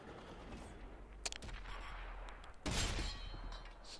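Tank cannon shots from an M103 heavy tank in World of Tanks on Xbox 360 crack out in a few sharp bursts, with a loud, heavier blast late and rumbling battle ambience between.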